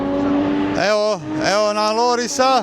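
Yamaha R9 racing motorcycle at the Isle of Man TT, its engine wailing loudly through rising and falling gear-change sweeps as it passes close by, with someone talking over it.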